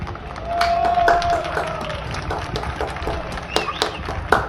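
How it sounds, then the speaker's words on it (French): A crowd claps and applauds firefighters outdoors on a Paris street after a ladder rescue, scattered hand claps rising and falling over street noise, with a brief tone and some voices mixed in. "je comprends les gens qui applaudissent"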